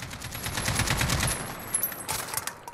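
Sustained automatic fire from an RPK-16 light machine gun in Call of Duty Modern Warfare, a rapid continuous burst of roughly two seconds with a few trailing shots, loud and close with no talking.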